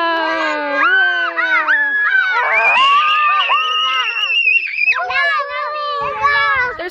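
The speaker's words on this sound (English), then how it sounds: "They're screaming because I have a selfie cam and they can see their faces." Several children at a care point in Swaziland shriek and squeal excitedly, high and loud, overlapping in continuous bursts with chattering voices woven through.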